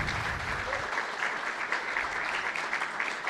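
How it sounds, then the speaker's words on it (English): Sustained audience applause fills the hall at a tech conference talk in Detroit, dense steady clapping throughout, fairly loud and close with no voices over it. "Another round of applause."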